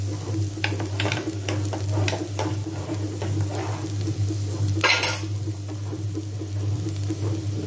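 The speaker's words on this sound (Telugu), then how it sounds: "ఇప్పుడు ఈ మరుగుతున్న పాకం ఇందులో వేస్తాం కొంచెం" Boiling jaggery syrup, half a kilo, poured into a moong dal and coconut mixture in a pot, with stirring, sizzling and clinks of a spoon against metal, a steady low hum, and a louder splash near the end.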